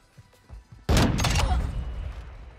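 A single heavy Signal 50 sniper rifle shot in a video game, a sudden loud boom with a rumbling tail after a few faint clicks and thumps.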